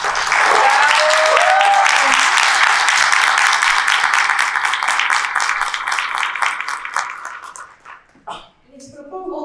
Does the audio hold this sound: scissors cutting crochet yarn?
no